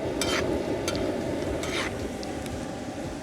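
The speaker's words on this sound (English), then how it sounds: "What I'd like to do is cook that cabbage down really well to where it starts to brown up a little bit and crisp up a little bit" Shredded cabbage frying and browning on a disco, a broad steady sizzle with stirring scrapes and a few sharp metallic clinks, close and moderately loud throughout.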